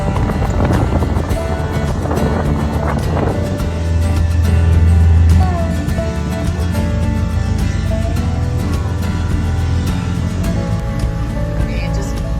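A boat cruising on Georgian Bay near a rock cliff wall, with a loud continuous engine drone and wind rushing across the microphone throughout.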